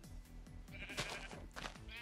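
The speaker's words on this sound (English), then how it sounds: "Yeah, freaking sheep." Sheep bleating in Minecraft, several short repeated calls close by, over low game tones.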